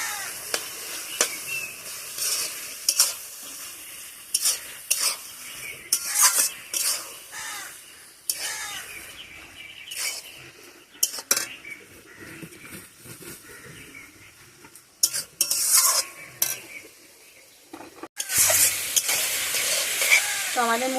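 Radish frying in ghee in a pan while being stirred, with a continuous sizzle and repeated scraping, clattering strokes of a spatula, close and fairly loud, with no talking.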